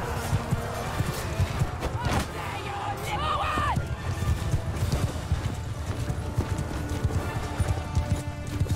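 Hooves pound in a steady clip-clop as a horse gallops in the medieval video game Mount & Blade II: Bannerlord, with a brief whinny and someone talking over it.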